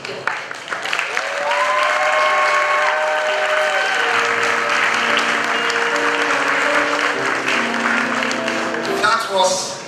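Sustained applause from a large audience at a graduation ceremony honoured by the Asantehene and Lady Julia Osei Tutu, dense and loud throughout, with tonal music or chanting running beneath it.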